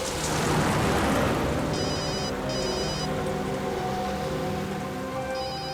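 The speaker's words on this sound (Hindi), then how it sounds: "दयाबेन का फोन।" A telephone rings with repeated electronic bell bursts over steady rain-like background noise, heard during a CID crime drama scene.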